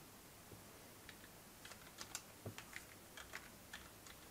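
Soft, uneven keystrokes on a computer keyboard as a password is entered, a dozen or so light clicks in an irregular burst, quiet and close with no talking.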